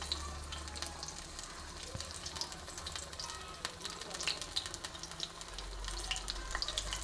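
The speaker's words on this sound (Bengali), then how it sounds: "মোটামুটি মাঝারি আঁচে, নিভু মাঝারি আঁচে ভাজা হবে" Banana flower frying in a pan over medium-low heat, a steady dense sizzle and crackle that goes on without a break, with soft low hum underneath.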